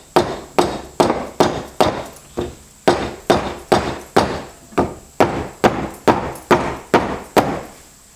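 A hammer taps a seized brake caliper slide pin on a Jeep Wrangler JK caliper bracket clamped in a vise: sharp, loud metallic strikes in a steady rhythm, roughly two per second, about fifteen blows with no talk.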